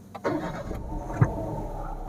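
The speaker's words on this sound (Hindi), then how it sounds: "मैं आपको बल्कि गाड़ी स्टार्ट करके भी दिखा देता हूँ।" A 2022 Toyota Yaris Hatch starts from its push-button start, a brief crank followed by a low, steady idle hum, heard from inside the car.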